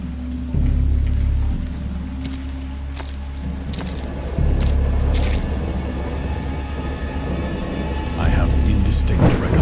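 A heavy thunderstorm with steady rain and low rumbling thunder in the H.P. Lovecraft's Dagon visual novel game, continuous and loud throughout with swelling rumbles and sharp crackles.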